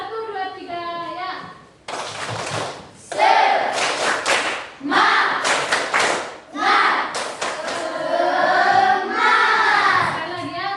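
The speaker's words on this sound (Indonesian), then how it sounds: "Tepuk semangat 1, 2, 3 ya." Rhythmic group clapping in a classroom, a spirited counted clap routine led by a teacher with children, bursts of sharp hand claps in quick patterns mixed with children's voices and talk.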